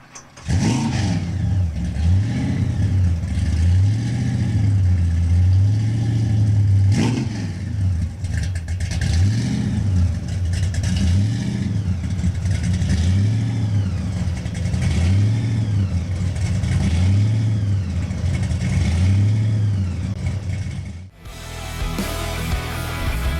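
A show car engine fires up and is revved repeatedly, rising and falling in a steady series of about eight loud throttle blips over a rumbling idle, then cuts off near the end.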